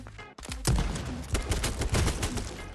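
Rapid bursts of automatic gunfire from the video game H1Z1 crackle loudly and continuously after a brief pause, the shots dense and overlapping with no speech.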